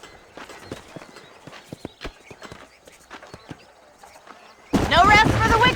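Horse hooves clip-clop in a rapid, uneven rhythm across open ground in the video game Red Dead Redemption, moderately loud, before a burst of talk and louder game sound takes over near the end.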